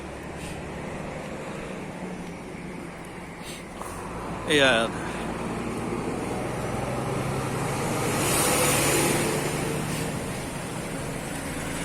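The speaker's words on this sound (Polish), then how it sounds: "Niech to samochód przejedzie." A car passes along a country road near rapeseed fields, its rushing swell rising and fading over a few seconds under steady wind noise, with a brief spoken word and a close voice at times.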